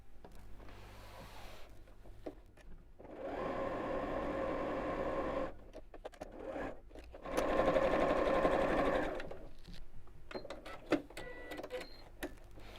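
A sewing machine stitches a bowling bag in two sustained runs separated by a pause, close and moderately loud, with scattered clicks and handling noises around them.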